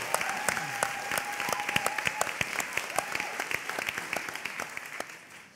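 A studio talkshow audience claps warmly for the band, a dense run of individual hand claps that gradually thins and fades out toward the end.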